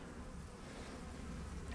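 Honey bees buzz steadily at an opened beehive split, a dense, continuous drone close by with no talk over it.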